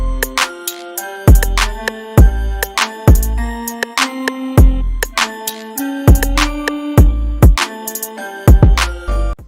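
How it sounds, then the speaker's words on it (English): An 808 rim shot layered with a zippy rim shot in a West Coast beat built in FL Studio around a Pokemon sample: crisp clicky hits repeating in a steady groove over booming bass and melodic synths, loud with no talk. "And together both rim shots sound like this."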